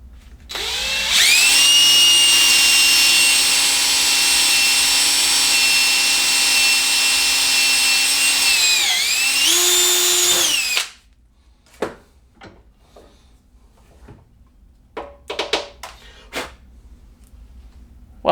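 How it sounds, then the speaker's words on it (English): A power drill runs steadily for about ten seconds, boring into a bolt clamped between rubber pads, its pitch sagging briefly near the end before it stops, followed by scattered clicks and handling knocks. "So I can drill away my heart's content."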